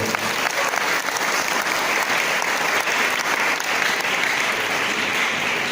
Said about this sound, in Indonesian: mari kita aplaus untuk beliau